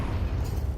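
Grenade blast in a Counter-Strike match, heard as a dense, sustained low-end boom lasting under a second, loud and close with no talk over it.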